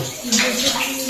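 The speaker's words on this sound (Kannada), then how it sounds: "365 ದಿನ ಕೂಡ ನೀರು ಬರ್ತದೆ" Water that flows year-round inside a historic cave gives a steady, close rushing and splashing wash with no pauses.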